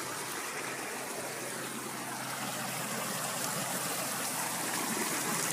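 A creek flows steadily nearby, a continuous even rush and trickle of water with no breaks, moderately loud and heard alone.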